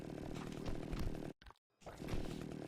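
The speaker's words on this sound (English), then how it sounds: "I still hear this chainsaw sound effect" Chainsaw sound effect from the 2010 video game Splatterhouse, a loud continuous revving roar that cuts out abruptly for a brief moment in the middle, then resumes at full strength.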